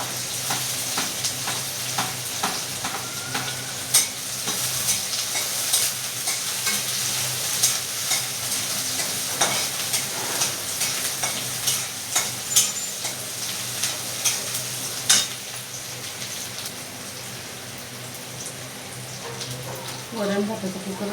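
Sliced capsicum fries in a pan with a soft, steady sizzle, punctuated by irregular scraping and tapping of a stirring spoon over about twenty seconds.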